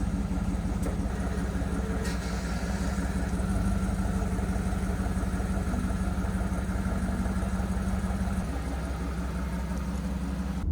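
A Cadillac Escalade's engine runs steadily while driving, a continuous mid-to-low rumble with a slight shift in tone near the end.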